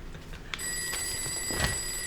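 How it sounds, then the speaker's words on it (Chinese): A telephone rings indoors in a Taiwanese drama scene. After a soft knock, a steady electronic bell tone starts and holds for about a second and a half, moderately loud and close, with faint room noise underneath. "我接电话吼"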